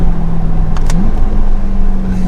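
A 2022 Chevrolet Corvette Convertible C8 R Edition engine hums steadily at close range in track mode on a bumpy road, its pitch rising slightly partway through, with a brief bump or thump.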